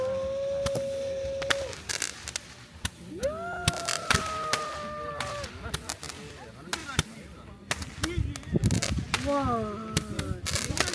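Fireworks burst at a beach campsite at night with sharp cracks and pops in irregular clusters, some rising whistles among them, while people nearby talk and react between the bangs.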